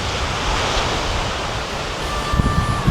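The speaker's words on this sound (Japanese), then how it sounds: "めっちゃ風強い。" Strong wind roars across the microphone at Miami Beach while ocean waves wash in underneath. The noise is loud and constant, with a few gusty bumps toward the end, and no voices.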